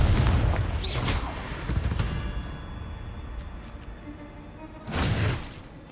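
A booming Confringo explosion spell goes off in Hogwarts Legacy, with a heavy blast and whoosh at the start and a second burst near the end, loud and close.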